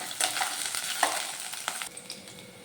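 Finely chopped ginger and garlic frying in a pan, crackling and sizzling up close, with a few quick stirring scrapes before the sizzle settles lower toward the end.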